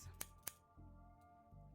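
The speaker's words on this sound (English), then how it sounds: "Scissors." Two quick, crisp scissor snips from The Darkside Detective video game ring out close and clear, followed by a soft low hum of background music.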